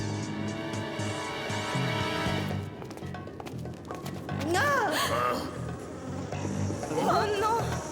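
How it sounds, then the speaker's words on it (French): Giant insects buzz in a tunnel in a French cartoon episode, a droning whine rising and falling in pitch, loud and close, with dramatic music and characters speaking over it. "Encore ce bourdonnement! Oh, des insectes géants 100 fois plus grands que tous ceux que j'ai jamais vus."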